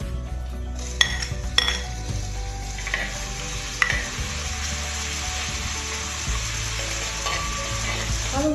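Onion with ginger garlic paste sautéing in a pan, a steady close sizzle broken by sharp clinks and scrapes of a utensil against the metal, no voices.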